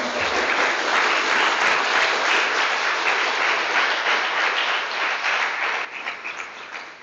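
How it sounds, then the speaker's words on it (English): Sustained applause from an audience at a university graduation ceremony, a dense even clapping that fills the room, holding loud and steady before thinning out near the end. "Please give yourselves a hand."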